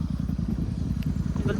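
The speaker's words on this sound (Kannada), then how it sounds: "ಎದುರುಡು ಹೊಸತಗ ನನ್ನ ಒಂಜಿ ಬೈಕ್ ಬಂದುಂಡು" A motorcycle approaches along the road, its low, steady engine drone running continuously beneath people talking.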